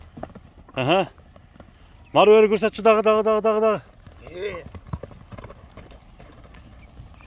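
Grey horse at a horseback game event, with bursts of loud neighing and whinnying sounds over hoof noise, a longer burst mid-clip, while someone speaks briefly in between.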